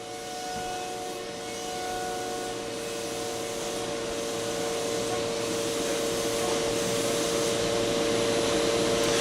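A 5-axis CNC machine mills a custom wooden passage door, its steady tonal whine and spindle hum running continuously and loudly with no pauses.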